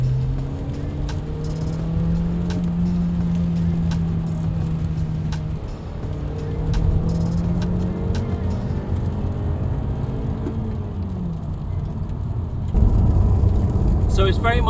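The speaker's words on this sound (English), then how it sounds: "Okay, so I put my foot down a bit here and get past this little Porsche." A tuned Honda Civic with an aftermarket ECU chip box accelerates hard on the road to overtake a small Porsche, engine note rising steadily and loud from inside the cabin, briefly easing before climbing again, with a sharper burst near the end.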